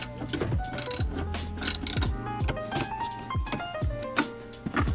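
Ratchet wrench loosening 10 mm and Phillips-head bolts near the ECU of a Nissan 350Z, with repeated clicking and metallic clunks in uneven bursts, close and moderately loud.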